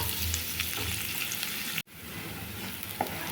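Onion, garlic and green chilli fry in hot oil with a continuous crackling sizzle, interrupted by a brief cut of silence before the sizzling resumes with occasional stirring taps.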